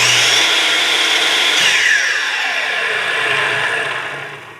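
A Makita LS1219L 12-inch double-bevel sliding miter saw spins up with a soft start, its loud motor whine rising gradually in pitch and then holding steady alone before easing off at the end.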